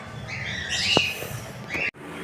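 Pet birds chirp and call in a home setting, with bright repeated tweets and a sharp squawk near the middle, fairly close and clear over a low background hum.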